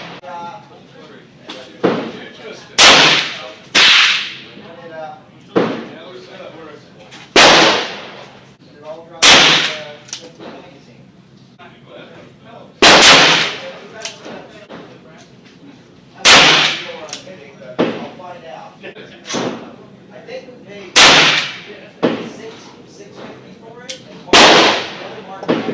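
Rifle shots firing unsized, out-of-round Lee cast bullets for accuracy testing, about a dozen sharp loud cracks spaced irregularly over half a minute, with quieter rustling and movement between them.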